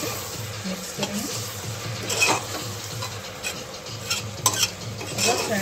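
Potatoes and green onions with coriander powder and garam masala being stirred in a pan: a steady scraping and rubbing of spoon against metal with soft sizzling underneath and a few sharper clinks, close and continuous.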